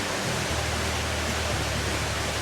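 Rushing water of a hidden waterfall in rocky surroundings in Sri Lanka, a steady, dense broadband roar with a low rumble and no voices, close and continuous.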